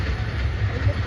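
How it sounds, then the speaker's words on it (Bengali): A toy train in a park gives a brief steady rumble with a hiss on top, close by and fairly loud. "Toy train."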